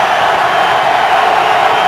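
A packed stadium crowd roaring at an NFL game between the San Francisco 49ers and New England Patriots in 2012, a steady, loud wash of cheering with no distinct voices emerging.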